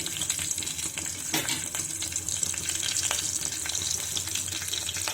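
Chana dal, urad dal and mustard seeds fry in two spoons of hot oil in a kadai while tempering for ivy gourd fry, giving a dense, close, continuous sizzle with scattered crackles and stirring, no voices.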